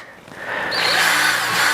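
A Ryobi drill drives a makeshift cutting machine rigged to repair a Cat mini loader, its motor whine rising and steadying into a loud, continuous high-pitched drone after a brief start.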